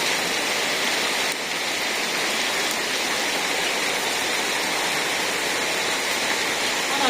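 Heavy rain in an Indian village pours down in a dense, even hiss, loud and unbroken throughout, with no voices.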